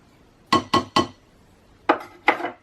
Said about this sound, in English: we're going to mix one more time just for good luck, scraping down our cocoa powder bowl